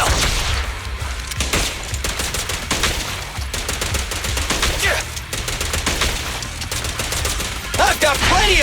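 Dense, continuous gunfire in the Zenless Zone Zero video game, rapid shots layered with impacts and metallic clatter, loud throughout, with faint speech mixed in.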